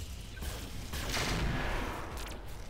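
Mech weapons fire in the Roguetech mod of BattleTech, a sustained rumbling barrage of blasts and booms that swells in the middle and fades over almost three seconds.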